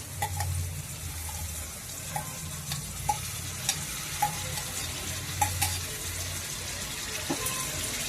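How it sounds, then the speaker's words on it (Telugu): Green beans tipped into a pan for a tomato curry, frying with a steady sizzle and a few soft clinks of stirring, no voices over it. "బీన్స్ తీసుకొచ్చాను, ఇవి ఉడుకుతున్నాయి కదా, వేసేస్తున్నాను"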